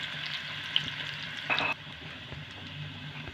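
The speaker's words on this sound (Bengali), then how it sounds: "রসুনটাকে কিন্তু বেশি ভাজবো না, হালকা ভেজে নেব।" Chopped garlic frying lightly in oil in a pan for arhar dal gives a soft, steady sizzle close by, with a brief brighter crackle partway through.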